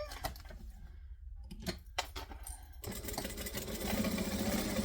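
A sewing machine stitches the side pieces of a garment, bursts of rapid mechanical whirring starting and stopping, then a steadier louder run toward the end, close by and without speech.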